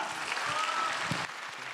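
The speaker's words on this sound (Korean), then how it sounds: "큰 박수로 나가겠습니다" Church congregation applauding together during a summer-retreat service, a steady, full wash of clapping that fills the room evenly and thins slightly near the end.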